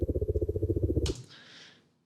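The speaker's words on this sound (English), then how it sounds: "I really like to add this chopper drone sound when I have like shots next to the wheel." A cinematic chopper drone effect for a Porsche GT3 sequence gives a fast, low, pulsing flutter for about a second, then cuts to a brief airy whoosh that fades out.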